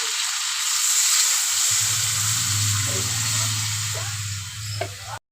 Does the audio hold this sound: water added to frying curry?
yes